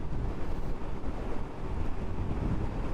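Strong wind buffets the microphone while riding a motorcycle at dusk under a light drizzle, a dense, steady low roar with gusty swells and no voices.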